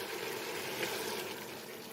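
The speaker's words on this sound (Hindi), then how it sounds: "अब हम इसमें डालेंगे 3 कप पानी।" Three cups of water poured into a pot of mutton korma that has been frying, giving a soft, steady rushing splash with a faint sizzle, fairly quiet and heard alone.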